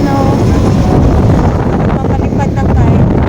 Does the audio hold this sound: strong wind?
yes